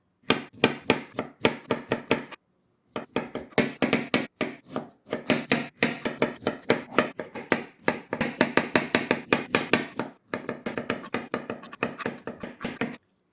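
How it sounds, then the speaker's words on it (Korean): A knife chops bamboo shoots on a cutting board while they are sliced for a seasoned salad. The cuts land close and loud in quick, steady runs of sharp thuds, with one brief pause. "죽순은 먼저 반으로 이렇게 잘라주는데요"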